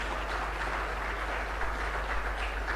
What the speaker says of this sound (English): let's give ourselves a round of applause for the patience